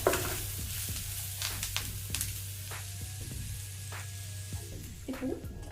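Mushroom fry being stirred in a hot pan, with a steady close sizzle and repeated scraping strokes of a spoon against the pan, with no talking.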